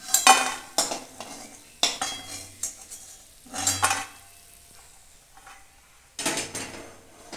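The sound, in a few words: frying lentil dumplings (bori) in mustard oil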